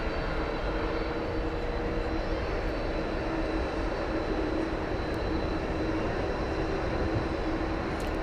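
Airliner jet engines at DFW Airport hold a steady, muffled roar at a distance while the plane turns on the ground, with a faint whine running through the broadband rumble and no talk.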